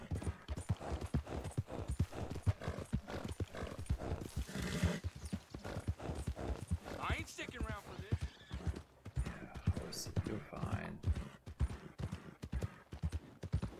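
Horse hooves clip-clop steadily in a close, even trotting rhythm in the video game Red Dead Redemption 2, with a brief neigh partway through.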